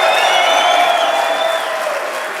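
A crowd at an awards event claps and cheers loudly, a dense wash of applause with whoops that tapers slightly toward the end.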